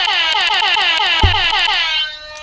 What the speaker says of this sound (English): Loud air horns for no reason.